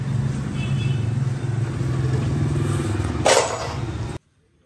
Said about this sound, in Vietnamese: máy xong rồi mình nổ máy cho anh em nghe nhở